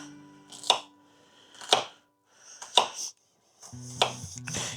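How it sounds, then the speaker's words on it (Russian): Red onion is chopped with a knife on a cutting board in a home kitchen, giving four distinct close, sharp thuds spaced about a second apart with quiet pauses between. "Сейчас мы это все порежем и тогда начнем жарить."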